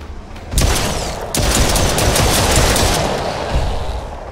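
Rapid bursts of automatic gunfire ring out while shooting waves of enemies in the Roblox game Brookhaven, loud dense volleys starting abruptly and running almost continuously with sharp cracks, no talk over them.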